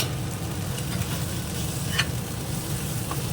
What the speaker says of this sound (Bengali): বেগুনটা একদম পুরো লাল লাল করে ভাজা হয়ে গেছে